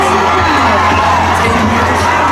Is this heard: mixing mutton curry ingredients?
no